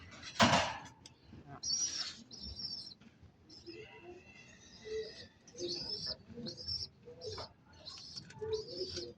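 Soft, low pigeon coos repeat at intervals, with sharper bird chirps and a voice talking over them.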